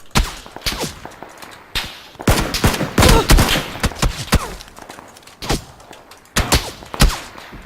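Rapid volleys of gunshots come from both sides in a squad shooter video game, heavy bursts that cluster and pause, with some shots loud and close and others more distant.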